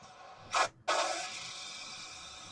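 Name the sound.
model train emergency brake sound effect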